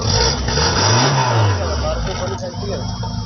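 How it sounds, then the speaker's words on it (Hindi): A 1998 Suzuki Margalla car engine revs up and falls back once, a rising and easing roar close by, settling into a rougher idle afterward. "गाड़ी स्टार्ट है, पीछे जाए आप, मैं रेस देता हूँ"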